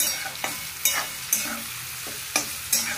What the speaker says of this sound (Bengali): চলো আলুটা একদম কড়কড়ে করে আলু ভাজবো।